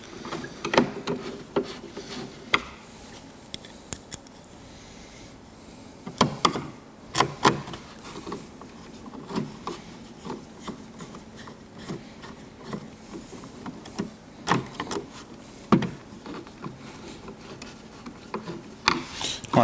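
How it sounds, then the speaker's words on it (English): Screws being started by hand into a grill on a Harley-Davidson motorcycle saddlebag lid, giving soft close rubbing, scraping and small clicking sounds at an irregular pace, with faint light knocks. "So I'm just starting each screw, making sure as I do it that the grill is still in the correct placement."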